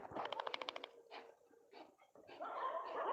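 A small puppy whimpers and yelps in a quick series of faint, close high cries, followed by softer scattered whines and some rustling.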